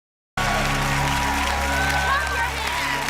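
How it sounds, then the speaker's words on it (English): Game show studio audience applauding and cheering, a dense continuous wash of clapping that starts abruptly after a moment of silence and holds steady beneath a low hum. "You better fucking clap."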